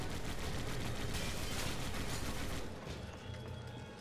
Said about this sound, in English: this guy needs to, like, stop shooting